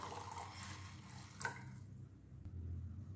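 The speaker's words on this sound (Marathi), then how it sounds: "यात आता पाणी घालूया।" Water is poured into a pot of amsul (kokum) saar, a quiet, steady stream for about two seconds before it stops, leaving faint background noise.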